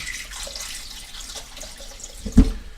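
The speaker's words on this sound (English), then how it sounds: "So I'm going to push water, filtered water over them," Filtered tap water runs steadily over boiled eggs to cool them, a soft close splashing stream with one brief louder knock near the end.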